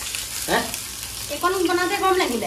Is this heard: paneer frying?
yes